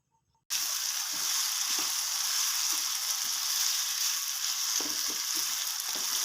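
Potato pieces frying in a pan: after a brief quiet start, a sudden, steady, close sizzle sets in and holds, with occasional soft knocks from stirring underneath.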